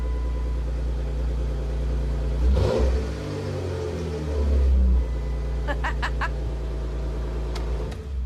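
A Jeep Wrangler JKU engine runs steadily, then revs up in two loud surges before settling back to a rumbling idle, with a few sharp clicks near the end.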